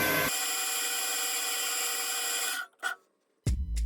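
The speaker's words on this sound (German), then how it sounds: "machen es also handlich und sägen unser Stück hier mal raus." Sawing a piece out of a lamp housing: a steady, loud rasping cut held for over two seconds close up, then a short scrape and a sharp final stroke.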